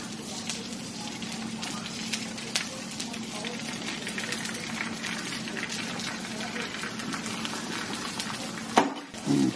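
Egg whites fry in a pan with a steady, close sizzle and crackle that holds throughout, ending in a brief louder clatter.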